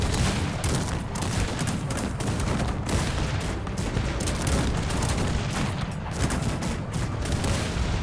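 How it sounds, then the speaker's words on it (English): Multi-barrel cannons fire volleys in the real-time strategy game Cossacks 3 during a multiplayer battle, a dense, loud, continuous roar of overlapping booms and gunfire with no clear gaps. "It's the freaking multi-barrel cannons, man."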